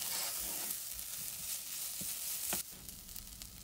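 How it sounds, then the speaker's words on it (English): Tuna and onions frying in a pan for Sri Lankan egg cutlets give a soft, steady sizzle close by, with a few faint clicks and a sharper scrape near the end. "Now I'm gonna add my tuna and cook it for another 3 minutes."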